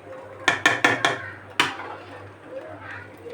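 A cooking pot holding cooked rice is handled while being reheated. Four quick metallic clinks land close together, then one sharper clank follows. Softer, faint handling noises trail off in a quiet kitchen.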